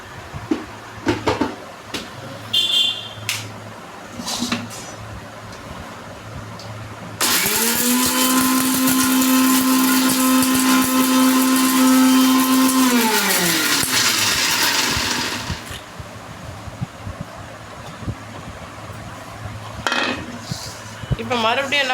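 A kitchen mixer grinder runs loud and steady for about eight seconds, pulverising cumin, black pepper, garlic and dried red chillies for pepper rasam, with clattering dishes and jar clicks before and after.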